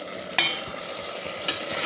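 Mutton frying in oil with tomato, a steady soft sizzle with two sharp clinks of a spoon against the pan, close and alone.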